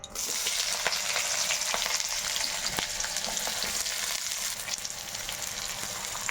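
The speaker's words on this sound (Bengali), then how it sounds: "তেলটা গরম হয়ে গেছে তো তেলের মধ্যে এবার আমি দিয়ে দিচ্ছি এই ডুমো ডুমো করে কেটে রাখা পেঁয়াজগুলো" Diced onions frying in hot oil, a dense loud continuous sizzle and crackle close up, steady throughout with occasional stirring scrapes and no voices.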